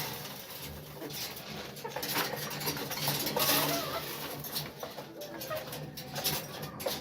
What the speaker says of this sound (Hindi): अंडे वाली मुर्गियों के पास आ गए